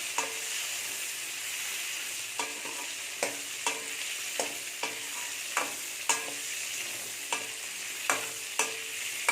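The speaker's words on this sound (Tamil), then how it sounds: "மீடியம் ஃப்ளேமில் வச்சு நல்லா வதக்கிக்கோங்க." Brinjal sautéing in oil over a medium flame, a constant gentle sizzle broken by regular scraping stirs every second or so, close and moderately quiet.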